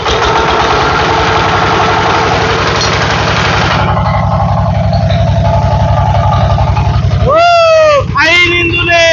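A new 20 hp Changchai single-cylinder diesel engine starts and runs with a loud, steady chugging knock close by, its rhythm shifting partway as it settles, with voices talking over it near the end.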